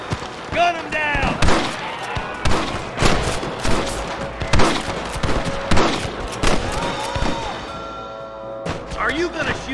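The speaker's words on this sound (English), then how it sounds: "Gun them down!" Gunfire rings out in a Red Dead Redemption shootout against rustlers, with repeated sharp shots arriving in irregular bursts and echoing under shouted voices.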